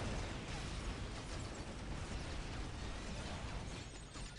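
A bomb blast in the Ultimate Apocalypse strategy game during an Eldar 3v3 skirmish, heard as a dense, steady roar of noise that fills the whole few seconds without a clear single boom.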